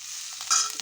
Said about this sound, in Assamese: আজি নিমপাত ভাজিছোঁ